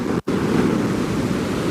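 Ocean surf washes steadily onto a shallow beach during surf fishing, a continuous broad rushing wash with one brief dropout near the start.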